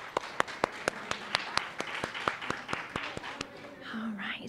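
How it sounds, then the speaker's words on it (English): Scattered hand claps from a student audience at a school leadership summit, a dozen or so sharp claps in an uneven sparse rhythm, fading out as murmuring voices and talk take over. "Let's give all of our teams and ourselves a round of applause."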